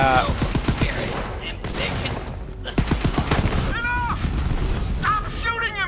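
Gunfire in the video game Borderlands 3, with bursts of rapid shots and heavy blasts coming loud and close, mixed with game effects and voices talking over the action.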